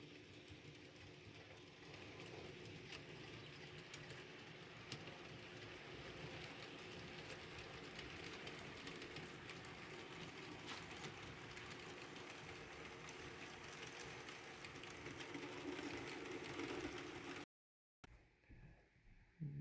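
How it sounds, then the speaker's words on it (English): A model freight train rumbles steadily along its track with faint rhythmic clicking, continuous and close, before cutting off abruptly near the end. "So here comes the freight train."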